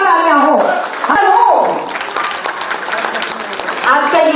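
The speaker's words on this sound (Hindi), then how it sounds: "श्री हेमंत सोरेन जी की जोरदार तालियां हो" Applause from an audience at a government ceremony handing out appointment letters to dentists and medical officers, greeting Shri Hemant Soren; steady clapping runs throughout, mixed with a loudspeaker voice talking over it at the start and end.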